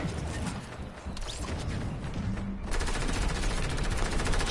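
Video game gunfire, a dense crackle of rapid shots at moderate volume that grows thicker and more continuous partway through.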